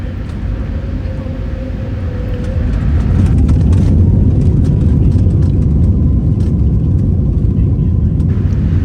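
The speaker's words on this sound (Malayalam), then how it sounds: "നമ്മുടെ ഫ്ലൈറ്റ് പതിയെ മൂവായി തുടങ്ങിയിരിക്കുകയാണ്" Airliner engines rumble loudly as a flight to Mauritius begins to roll, a steady low roar swelling after a few seconds and holding on.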